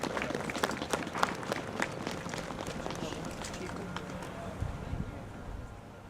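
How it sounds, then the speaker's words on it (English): Applause at an outdoor Veterans Day wreath-laying ceremony held by the Daughters of the American Revolution, a soft, scattered patter of clapping from a modest crowd that thins out and fades. "Let's give them another big round of applause."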